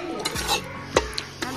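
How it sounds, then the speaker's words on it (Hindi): Flour is dry-roasted and stirred in a metal kadhai for chakke. A spatula scrapes and clinks against the pan in short, uneven strokes, close and fairly soft, with no talking. "पहले इसके अच्छी तरह हम भून लेंगे कढ़ाई में"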